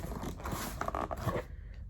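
Blade scraping and tearing through packing tape on a cardboard shipping box, a close run of scratchy cuts and rips that ends abruptly into quiet.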